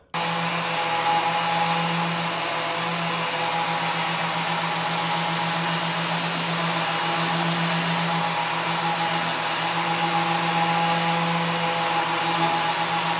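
Steady, continuous whir of a power sander smoothing primed wooden nightstands with 420 grit, a constant close drone with a low hum that runs unbroken from start to end, no voices.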